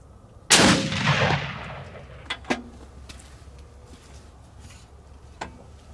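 A Ruger Precision Rifle with a Vortex scope fired in a 200-yard accuracy test, a single sharp, loud report that rings out and decays, followed by a few faint clicks and knocks.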